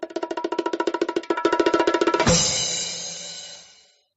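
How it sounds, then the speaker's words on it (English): Bongo drum roll sound effect: rapid, evenly spaced hand strikes that speed up into a continuous roll, capped by a bright crashing hit whose ring fades out over the last two seconds. "drum roll bongos,"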